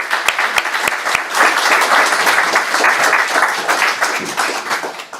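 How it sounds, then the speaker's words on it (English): A festival audience in Leith gives a big round of applause for economist Professor Brett Christophers, with steady, dense clapping that fills the room from start to finish. "Can you give Professor Christophers a big round of applause?"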